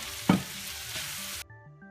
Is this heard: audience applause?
no